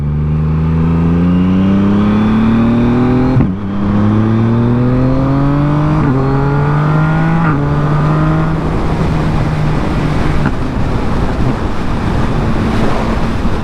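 Motorcycle engine pulling hard on an open road ride, loud close revving that climbs through several gears with short dips at each shift, under heavy wind rush.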